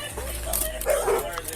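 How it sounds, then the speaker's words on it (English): Several large dogs bark and yip at once in a noisy, echoing scene, fairly close and overlapping, with some whimpering mixed in. "multiple big ass barking dogs"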